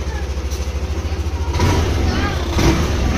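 A car engine idles steadily at close range after an idle speed control reset, with a smooth low rhythmic throb, while someone speaks over it.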